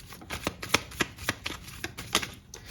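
Tarot cards being shuffled by hand in quick, uneven bursts of riffling snaps and slides, close and fairly quiet, with no talking.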